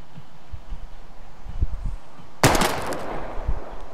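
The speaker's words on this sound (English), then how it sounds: "We're gonna shoot all these bottles without wasting a single bullet." A single sharp pistol shot fired at bottles in the video game Life is Strange rings out loud and close partway through, after a stretch of low rumbling ambience.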